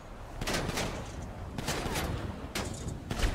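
Video game gunfire aimed at a car's tires comes as several rapid bursts of shots, moderately loud and spaced about a second apart, with a steady rumble of game noise underneath.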